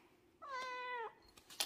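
A voice imitates a cat with a single drawn-out meow, clear and close, lasting about half a second and followed by faint small noises.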